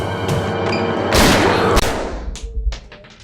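A single loud blank gunshot fired on a film set during a staged arrest scene, a sharp broadband blast that rings out and decays over the following seconds.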